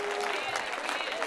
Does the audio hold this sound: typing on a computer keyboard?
no